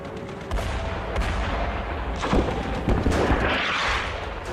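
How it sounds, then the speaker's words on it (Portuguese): Dense, continuous battle noise with rapid cracks of machine gun fire and heavy booming thuds of falling mortars layered over a constant loud roar, in a World War II Pacific combat setting. "Os disparos de metralhadoras aumentam e morteiros começam a cair."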